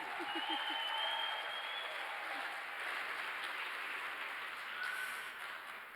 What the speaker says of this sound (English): I think they deserve a bigger hand of applause, please.